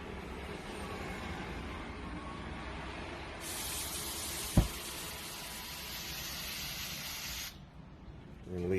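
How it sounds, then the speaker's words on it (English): An aerosol can of water shield and stain repellent sprays steadily onto suede sneakers, one continuous hiss lasting about four seconds, close and moderately loud over a faint background with a brief click midway. "I get some like water shield and stain repellent, and then I just spray that on"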